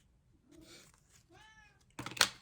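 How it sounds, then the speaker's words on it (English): A cat gives a couple of soft, wavering meows nearby, then a sudden louder noisy burst ends the moment. "That is my cat"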